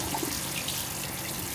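A hot water tap runs aboard a sailing boat on a first passage toward the Chesapeake Bay, a steady close gush of water splashing into a sink with no talk.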